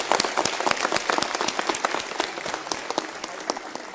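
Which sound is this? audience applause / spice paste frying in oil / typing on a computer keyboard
audience applause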